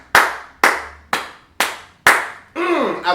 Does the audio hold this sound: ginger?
no